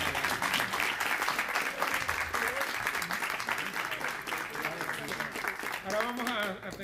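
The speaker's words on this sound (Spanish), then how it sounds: "pido ahora un aplauso a la memoria del presidente Carlos Prío" Audience applause in memory of Cuban president Carlos Prío, a sustained dense clapping from a crowd at steady loudness, with voices mixed in toward the end.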